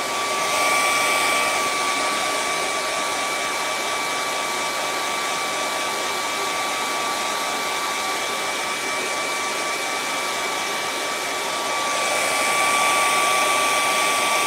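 A hair dryer blows steadily on wet paint during a painting session, a loud continuous whooshing hum that holds unbroken for the whole stretch, easing slightly near the end.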